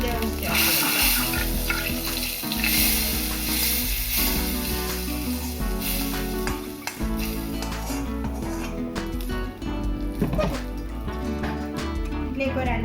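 Roasted cumin added to a lemon rasam tempering with dry red chili and asafoetida gives a loud, steady sizzle that runs unbroken throughout, with tonal background sound.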